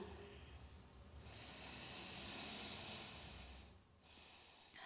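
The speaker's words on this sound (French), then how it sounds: "Commence à prendre des respirations longues, tranquilles." Slow, deep breathing during a yin yoga session: one long, soft, airy breath swells and fades over a few seconds, followed by a brief pause and the start of another, quiet and close.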